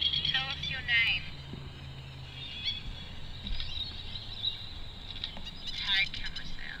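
Birds chirp and call intermittently in the distance in a cemetery at Redland Bay while people talk quietly, with a faint low hum in the background.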